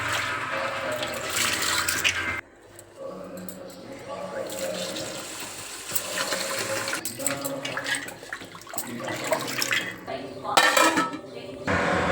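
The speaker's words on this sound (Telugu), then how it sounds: "కిలోంబావు బాస్మతి బియ్యం తీసుకొని మంచిగా నీళ్ళు వేసి కలుపుకొని కడుగేద్దాం." Basmati rice being washed by hand with water in a pot: close, uneven sloshing and splashing with light clinks against the pot, plus a few brief louder bursts of water.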